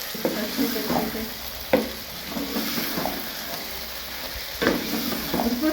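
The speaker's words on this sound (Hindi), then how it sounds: "अब इसको फिर दोबारा थोड़ा सा भूनेंगे अच्छे तरीके से।" Tomatoes and green chillies stir-frying with carrots and peas in a pan, a steady sizzle broken by several sharp scraping stirs of the spoon at irregular intervals, close and clear with no talking.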